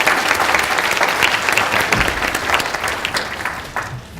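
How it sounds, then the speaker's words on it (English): Dense, steady applause from an audience at a clinical documentation talk, thanking two presenters, strong and continuous before tapering slightly near the end. "Let's give them a round of applause."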